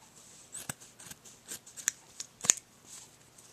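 Scissors snipping through a sock at the heel, a series of quiet, crisp cutting clicks at irregular intervals, close up with sharp snaps near the middle.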